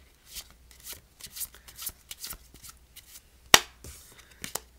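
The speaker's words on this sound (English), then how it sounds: "And then you're going to shuffle." Playing cards shuffled by hand during a card trick, a series of soft riffling bursts and taps at close range with one sharp snap near the end, no talk.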